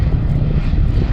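A WWII fighter plane at the Southport airshow roars overhead on a loud, steady propeller engine drone, rich and low, filling the short stretch with no voices.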